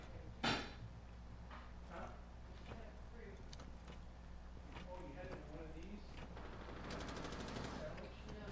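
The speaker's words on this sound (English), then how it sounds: "Are they shooting at each other?" Gunfire from the game Rainbow Six Siege: a sharp shot near the start, then scattered faint reports and a brief burst near the end, all under a steady background hum with occasional talk.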